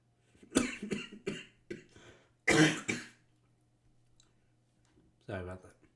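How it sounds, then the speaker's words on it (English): A cluster of sharp, close coughs comes in quick succession, with a longer, heavier burst after a short pause, then quiet before a brief voiced sound at the end. "Why is it when I try and smile, I cough?"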